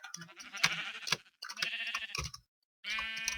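Sheep bleating in the Minecraft video game, several drawn-out bleats in a row with short gaps between them, clear and close with no talking.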